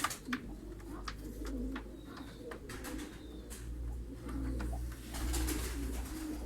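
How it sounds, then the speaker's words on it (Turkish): Mardin pigeons cooing softly in a large pigeon loft, steady low murmuring coos with occasional wing flutters and short clicks, continuous and moderately near. "Burada da ağırlıklı Mardin kuşları var."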